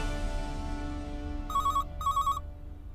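A telephone rings indoors in two short electronic bursts, loud and close, with no one speaking over it.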